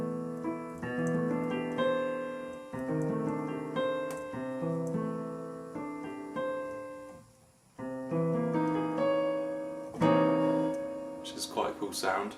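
Solo jazz piano playing quartal harmony, open chords voiced in fourths struck in a loose rhythmic sequence with a short pause midway, close and resonant, without speech.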